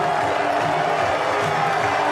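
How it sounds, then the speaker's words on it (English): A packed cricket stadium crowd roars continuously after a six in a 2005 Bangladesh vs Australia match, a loud unbroken wash of cheering with a voice faintly underneath. "the crowd are going nuts here"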